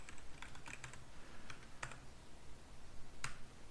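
Computer keyboard keys tapped in short scattered bursts while a command is typed into the Neovim editor, close and fairly faint with pauses between clusters of keystrokes.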